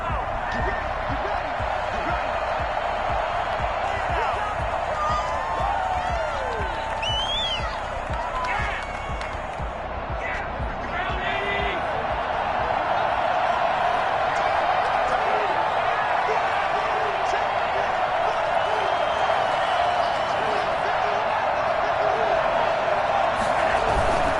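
A stadium crowd roars and cheers steadily before a Buffalo Bills vs New York Jets football game, a dense, sustained wash of noise with a commentator talking over it.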